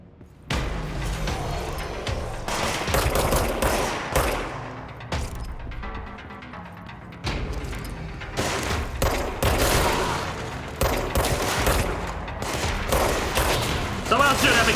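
Rapid, loud gunfire bursts crackle through a firefight in the video game Control, with the supernatural Service Weapon among the guns, dense volleys repeating over fourteen seconds under occasional speech.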